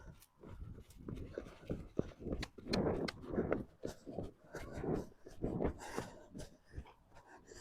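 The horse Sedona cantering: a steady, rhythmic run of muffled hoofbeats, fairly close and moderately loud, with no talk over them.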